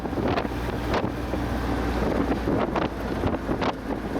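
A high-mileage World War II Willys jeep engine drones steadily while driving, a continuous low rumble heavily buffeted by wind noise, with no voices.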